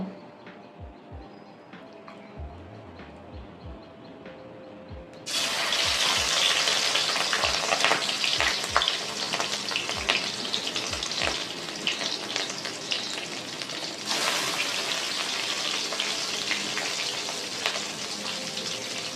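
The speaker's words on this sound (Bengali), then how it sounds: "এবার আমি মাছের ডিমটা ভেজে নেব।" Fish roe sizzling in hot oil in a wok over a low gas flame. A quiet start with a few soft clinks gives way to a loud, steady crackling fry that swells again near the end, with no talk.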